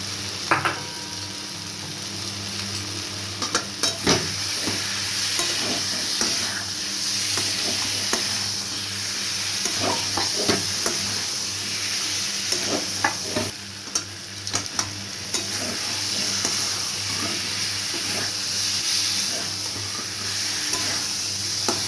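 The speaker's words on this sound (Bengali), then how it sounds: "মশলার সঙ্গে আলু আর কচুটা ভালো করে কষে নিয়েছি" Fried taro and potato being sautéed with spices and salt in a pan for a Bengali fish curry, a loud continuous sizzle with frequent clinking spatula strokes, close and without speech.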